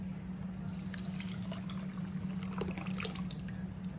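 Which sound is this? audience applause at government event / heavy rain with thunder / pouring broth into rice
pouring broth into rice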